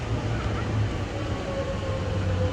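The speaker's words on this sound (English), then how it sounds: "Oh, there's another train there." A train running nearby at a station, a continuous low rumble with a droning hum, steady and fairly loud for the whole moment.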